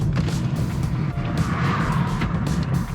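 A car rolls onto a US army base with a steady, close engine and road rumble, and tyre noise and small mechanical knocks ride on top.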